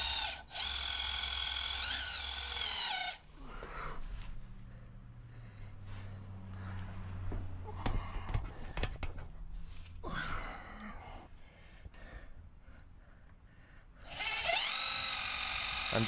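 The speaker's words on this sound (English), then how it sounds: "I'm just going to continue running the pump until fluid starts to run out of the fill hole." A drill-driven fluid transfer pump fills the transfer case of a BMW X5 E70 with fluid, a loud steady high whine that runs for about three seconds, drops away for a quieter stretch of scattered handling noise, then returns near the end.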